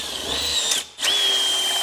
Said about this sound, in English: This is a 16 millimeter, also known as a 5/8 bit.